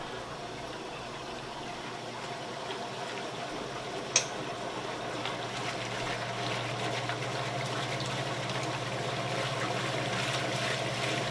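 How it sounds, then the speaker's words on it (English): Water drains steadily from a Whirlpool/Kenmore washing machine set to spin mode, a continuous trickling rush that builds slightly over time, with one sharp click partway through. "So let's drain the water out."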